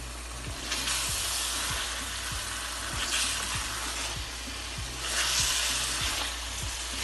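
Koftas cook in a pot over medium-low heat, giving a steady, close sizzle and hiss with soft, regularly spaced low thuds beneath it. No one speaks.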